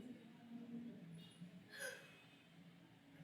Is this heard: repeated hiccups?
yes